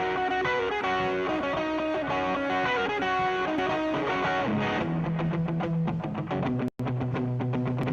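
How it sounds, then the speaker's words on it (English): A distorted electric guitar plays dry, with no reverb, in a studio mix, its chords loud and continuous with a brief dropout near the end. "this is the guitar without any reverb in the Logic mix."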